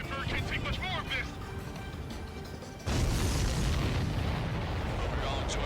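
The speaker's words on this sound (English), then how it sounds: "Missile hit the supply ship dead on." Missile explosions in the Ace Combat 7 flight game strike a supply ship, a loud sustained rumbling boom that swells halfway through and rolls on thickly under game radio chatter.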